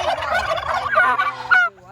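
A Royal Palm turkey on a farm gobbles loudly and close, a rapid warbling rattle lasting nearly two seconds before cutting off abruptly.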